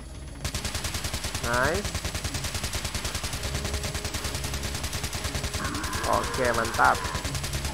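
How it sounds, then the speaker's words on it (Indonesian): Gunfire in a modded Resident Evil 4 game on Mega Impossible difficulty sounds as a dense, rapid stream of shots running throughout, with someone talking over it. "Aku sengaja tembak kaki"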